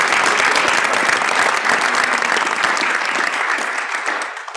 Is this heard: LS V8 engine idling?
no